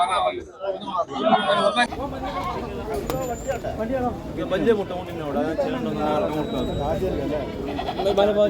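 Several goats bleat repeatedly amid a crowd's busy chatter at a livestock market, the animal cries overlapping and mixing with the voices at close range.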